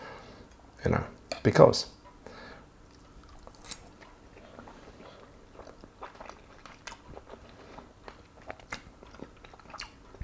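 Close-up chewing of Lancashire hot pot with lamb and celeriac, a few loud moist bites early on, then quieter intermittent mastication with small clicks.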